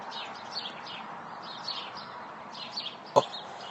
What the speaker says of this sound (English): birds over there popping around by the tree.